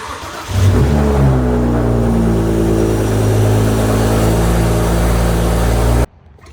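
A BMW car engine, just back from a starter repair, cranks and catches, then runs at a steady, loud idle for about five seconds before cutting off abruptly, with no voices.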